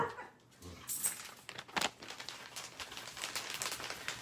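Several household dogs make sharp, excited vocal bursts, close by, scattered unevenly over a few seconds with soft crinkling and whimpering between them.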